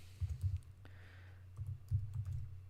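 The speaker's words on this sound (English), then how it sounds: "I'll type it." Keys on a computer keyboard are tapped in short, quiet bursts of clicks with a pause in the middle, over a low steady hum and no speech.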